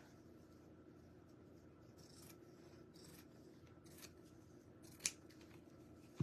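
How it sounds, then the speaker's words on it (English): Scissors snipping loose threads off a tightly twisted, tied craft piece, soft faint rubbing and scraping with a few quiet snips and one sharper cut near the end, no talking. "then I can cut away any of these little threads"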